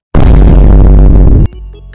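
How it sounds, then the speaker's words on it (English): A loud explosion effect from the Fortnite battle pass video game erupts as a dense, booming burst for over a second, then cuts off into a faint ringing tail. "That's an explosion."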